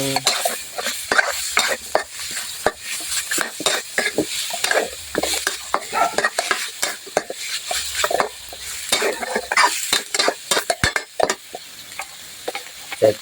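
Pork belly stir-frying in a pan with chili and garlic, a loud close sizzle broken by rapid, busy scraping and clinking of a spatula against the pan, steady throughout without speech.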